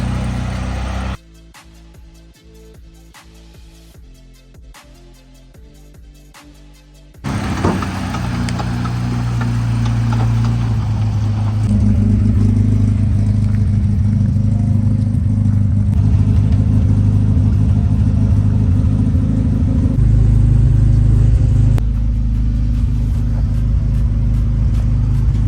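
A barn-found 1984 Toyota Hilux 4x4 engine sputters through a few rough bursts, then catches and runs steadily, rumbling louder as the truck is driven out of the barn, with no talking.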